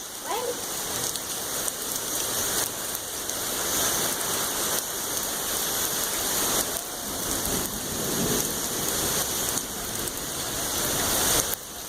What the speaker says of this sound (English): It's thundering pretty good.